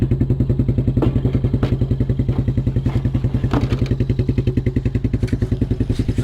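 Small single-cylinder engine of a 1987 Suzuki Quadrunner LT230e ATV, started by pull cord and running at a steady, loud idle, with a rapid, even chugging beat and light clatter close by throughout.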